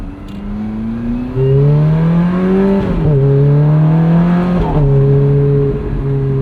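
A 2008 Ferrari F430 Spider's V8 engine revs hard through rising, screaming pulls, with a short dip between gear changes, loud and close from inside the car on a sunset drive, with no talking.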